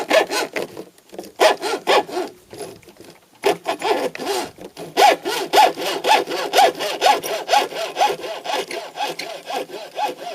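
Hand saw cutting through a fishing rod with steady back-and-forth strokes, a brief pause near the start, then fast even rasping strokes continuing loud and close.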